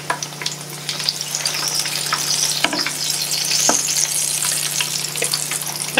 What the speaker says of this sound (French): avec le bruit de la friture